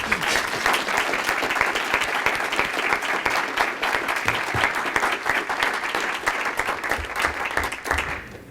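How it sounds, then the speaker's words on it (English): Audience applause at an Elmhurst 205 school board meeting, honouring a school principal: a steady, dense round of clapping from a room of people that holds for the whole stretch before tapering slightly at the end. "we'll give you just a quick round of applause"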